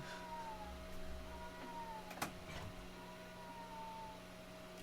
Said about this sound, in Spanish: Pensé que era el gato de acá, es el gato del vecino